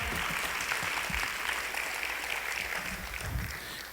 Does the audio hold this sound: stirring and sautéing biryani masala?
no